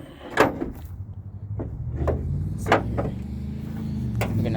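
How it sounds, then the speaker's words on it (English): Metallic clunks and latch clicks as the hood of a 1985 BMW 325e E30 is worked open, several sharp knocks spaced a second or so apart over a low idle hum. "I'll get this hood open in a second so I can show you what I mean."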